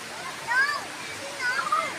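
A stream at a picnic spot rushes in a steady, even wash of water sound, running continuously under people talking and calling out nearby.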